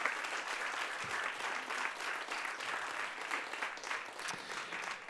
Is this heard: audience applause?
yes